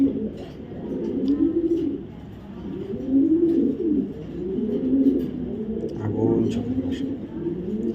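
Black female racing pigeon cooing in repeated soft, throaty rolls, close and fairly steady, with a faint background hum.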